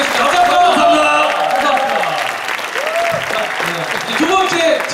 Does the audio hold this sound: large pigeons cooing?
no